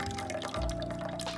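Fresh juice pours from a juicer spout in a steady liquid stream with dripping, close and fairly loud, over a constant machine hum and with no talking.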